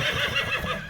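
A Silesian breed horse, a European import, whinnies in a sustained, wavering neigh lasting about a second, fairly close and clear with no talking.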